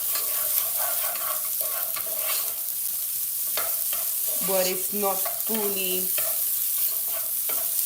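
Nigerian small chops fry in hot oil, giving a constant close crackling sizzle with stirring clatter. Someone speaks briefly over it partway through.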